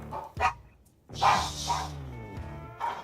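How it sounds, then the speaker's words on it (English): Several dogs bark upstairs in short bursts, a few sharp yaps spaced through the moment, somewhat muffled as if from another room. "As you hear the dogs barking upstairs again."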